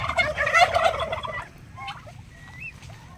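Broad breasted turkeys gobble in a loud, close burst while eating withered grapes, followed by softer scattered clucks and calls from the flock.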